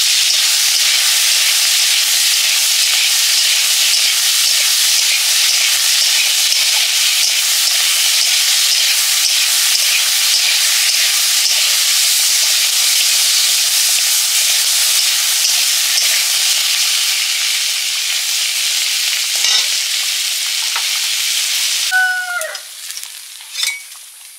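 Loud, steady sizzle of a ghee tempering of dried red chilli, fennel, onion and tomato hitting chicken do pyaza meat, hissing continuously and easing off near the end with a few clinks.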